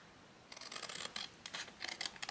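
Scissors cutting paper into pieces for a gift box: a series of quiet, crisp snips in short bursts, close up and with no talk.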